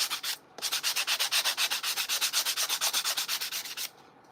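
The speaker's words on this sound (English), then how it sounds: "So I'm gonna make sure that I sand that away." A handmade sea shell home decor piece is sanded by hand in quick, regular back-and-forth strokes, a close, rhythmic scratchy rasp repeating about twenty times before stopping.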